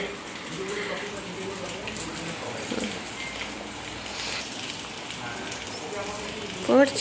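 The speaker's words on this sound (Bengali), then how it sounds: "কিন্তু বৃষ্টি পড়ছে।" Rain falling steadily outdoors as a soft, even hiss throughout, with faint voices in the background and a brief clatter near the end.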